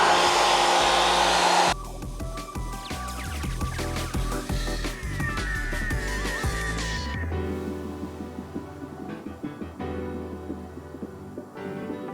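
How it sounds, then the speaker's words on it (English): Pre-soak foam sprayed onto an aluminum trailer tank, a loud steady hissing blast from a pressure sprayer with a mechanical drone beneath, running continuously and easing slightly toward the end. "We're gonna get started to throw that pre-soaked foam on"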